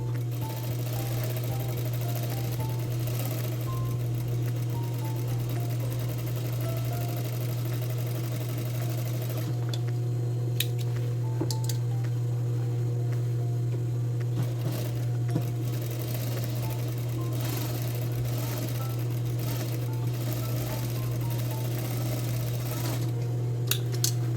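Sewing machine running steadily, stitching a double seam along a denim jeans hem at presser-foot width, a continuous close mechanical hum and whir with light clicks, no talking.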